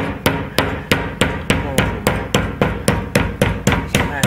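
A hammer drives 1 to 1.5 inch sheetrock nails into a cyclone separator dust collector build, with about twelve sharp, evenly spaced close strikes in quick succession and no speech.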